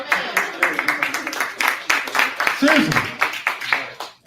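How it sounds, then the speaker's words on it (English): Scattered audience clapping rises in irregular bursts while a voice speaks over it, the claps sharp and fairly close, swelling briefly before thinning out. "It's always nice to get applause"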